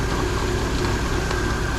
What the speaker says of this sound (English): it is really running rough